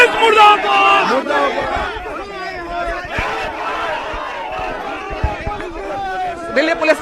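Protesters against the citizenship amendment law chant together loudly and rhythmically in a street demonstration, a close and energetic crowd with overlapping shouted voices and general hubbub.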